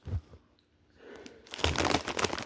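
A bag of Cheddar Jalapeno Cheetos crinkles and rustles, with a brief crackle at the start and then a denser stretch of crisp plastic crumpling, close and fairly quiet with no talking.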